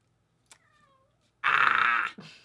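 A cat lets out a single loud, drawn-out meow close by, preceded by a faint thin squeak and a soft click.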